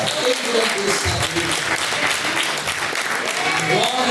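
Congregation clapping during a Portuguese-language church service, a dense continuous wash of hands at full level throughout, with a voice murmuring faintly underneath.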